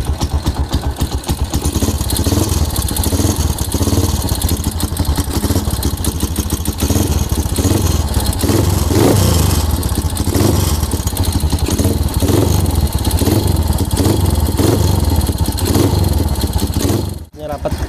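A Honda Megapro motorcycle engine runs rough, with a ticking, rattling cylinder head and very tight valve clearance. It idles loud and close with a rhythmic pulsing chatter, then cuts off abruptly near the end.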